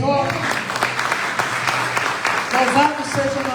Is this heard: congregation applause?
yes